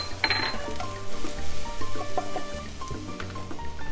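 Minced garlic sizzles in olive oil in a pan for shrimp scampi, a steady close crackle with a brief clink near the start and soft tonal background sounds underneath.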